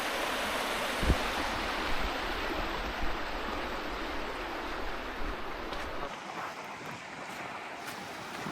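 A waterfall at Natural Bridge State Park, Virginia, gives a steady, hissing rush of falling water, moderately distant, with the deeper low rumble dropping away near the end.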